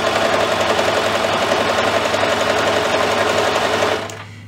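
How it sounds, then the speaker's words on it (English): A little Singer sewing machine runs a chain stitch on a kids apron, a loud, fast, even mechanical chatter that holds steady and then winds down abruptly near the end. "I'm just using a chain stitch"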